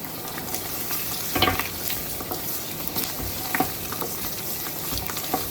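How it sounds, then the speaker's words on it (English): Homemade roux for chicken and sausage gumbo being stirred constantly in a hot pot, a steady close sizzle and fry with repeated scraping strokes of the spoon, with no voices. "Stirring constantly."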